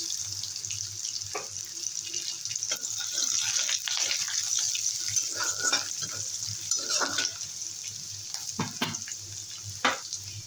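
Crushed garlic and nigella seeds sizzling in hot frying oil in a home kitchen, a steady hiss with scattered crackles and pops, close and moderately loud.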